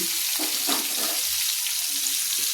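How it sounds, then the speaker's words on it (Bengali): Drumstick (moringa) pieces frying lightly in a little oil in a pan, a steady close hiss of sizzling with faint stirring scrapes, no voices. "এইভাবে সজনে ডাঁটাগুলো একটু তেলের সঙ্গে একটু ভেজে নিচ্ছি।"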